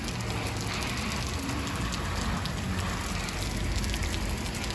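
Rain patters steadily on a surface outdoors at a farmers market, a dense, even hiss of drops with no pauses and no voices.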